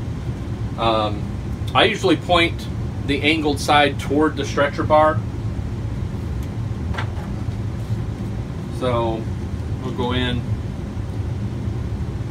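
A steady low hum of air conditioning runs throughout beneath a person talking close by.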